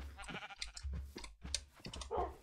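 Sheep in a video game bleat several times in quick, uneven succession, the nasal wavering cries overlapping one another at a fairly quiet level.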